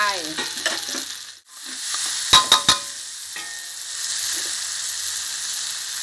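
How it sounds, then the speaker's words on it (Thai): Garlic and red curry paste fry in a spoonful of oil, a close crackling sizzle broken by a brief dip and a few sharp clinks of a utensil against the pan; no speech. "น้ำมันโอลีนค่ะหนึ่งช้อนแกงใส่ลงไป กระเทียมค่ะหนึ่งหัวใส่ลงไปเลยค่ะ พริกแกงเผ็ดนะคะ หนึ่งขีดค่ะใส่ลงไป"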